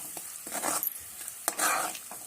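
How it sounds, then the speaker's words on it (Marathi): Masala for chicken curry being stirred and fried in oil, a close sizzle broken by swishing scrapes of a spoon against the pan, with no talking. "हा मसाला व्यवस्थित तेल सुटूपर्यंत परतून घ्यायचा"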